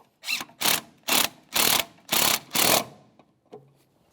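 A ratchet snugs a brake master cylinder mounting nut on a 2008-2017 Mitsubishi Lancer, six loud, evenly spaced bursts of clicking close up, then a faint tap.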